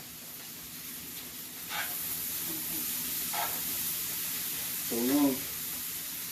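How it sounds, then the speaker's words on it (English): Chicken and bacon sautéing in a home kitchen pan, a soft steady sizzle and hiss at low level with occasional stirring scrapes, while someone talks briefly. "continue to saute these around, spread them around"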